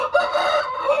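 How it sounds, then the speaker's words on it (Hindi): A desi rooster crows nearby, a short, loud, strained call held for about a second. "देसी मुर्गा"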